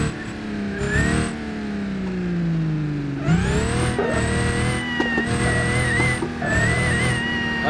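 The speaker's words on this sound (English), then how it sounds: "Here we go, boosted launch." A car makes a boosted launch in the BeamNG driving game: the engine drone sags, then surges into a loud, high revving whine with tire noise, holding close and continuous.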